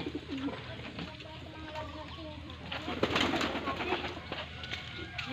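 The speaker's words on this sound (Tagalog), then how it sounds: "Ang alaga nilang kalapati." Pigeons coo softly in low, throaty bursts, several birds close by, with faint background chatter and rustling.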